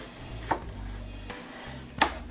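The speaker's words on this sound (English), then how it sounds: "I'm gonna start cutting the peppers" A kitchen knife chops through peppers on a board, giving a few sharp, separate cuts spaced roughly a second or more apart over a low background hum, close and moderately loud.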